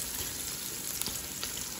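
Spices sauté in a hot pan as the base for native chicken sinampalukan, a dense, steady close-up sizzle with faint crackles and no voices.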